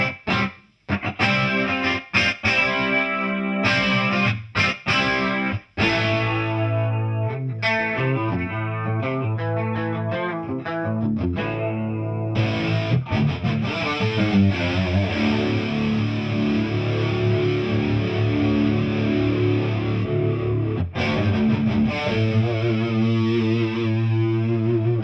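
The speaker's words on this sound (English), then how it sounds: "Now the Mad Chorus Comp and Close Reverb." Electric guitar played through a Mad Chorus Comp preset and Close Reverb pedal, sustained distorted chords and single notes with a shimmering chorus, loud and alone.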